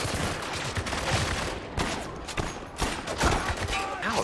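Dense gunfire in the war shooter Spec Ops: The Line, with rapid overlapping bursts and shots in a loud continuous fusillade at close range.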